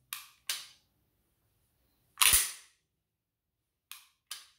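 Short, crisp clicks from the trigger reset of a Sig Sauer P320 C Nitron pistol, heard up close in two pairs with one heavier snap in between, all separated by silence.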